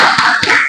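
A school class claps together in a short rhythmic cheer during an Indonesian classroom lesson, a couple of loud, close hand claps over a brief burst of noise.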